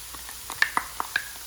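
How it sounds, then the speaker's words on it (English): Stir-fry sauce poured into a hot pan of softened zucchini for a Thai basil stir fry, giving a few faint, brief sizzling hisses and light stirring clicks spread across a quiet moment. "Now it's time to add the sauce."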